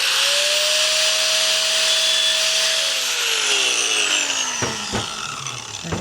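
A power tool cuts through a custom rear driveshaft for a Jeep Cherokee XJ, giving a loud, sustained grinding whine whose pitch falls as the cut finishes, ending with a few sharp knocks.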